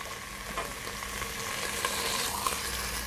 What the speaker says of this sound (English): I'm going to turn it around and sear the next side of it